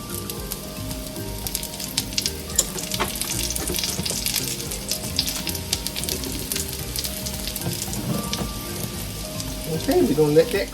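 Salmon patties with a panko crust fry in oil, a steady crackling sizzle with dense sputtering pops that runs the whole time and swells briefly louder near the end, with no voices.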